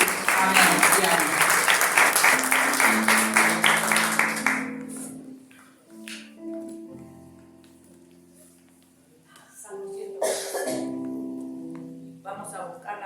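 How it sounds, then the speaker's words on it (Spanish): A church congregation breaks into loud, sustained applause for about five seconds, then it fades into quieter scattered sound with a musical tone, and a second shorter burst of clapping follows near the end. "te honramos anticipadamente con este aplauso, papá"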